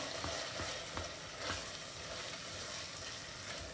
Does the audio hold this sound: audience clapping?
no